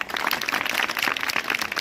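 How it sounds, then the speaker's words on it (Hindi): An audience at a school annual function applauds in steady, dense clapping that holds evenly throughout the short stretch. "तालियां"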